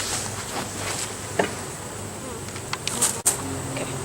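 Honey bees buzz in a steady, close drone during a beehive inspection of a merged colony, with a few brief louder passes and a sharp knock near the end.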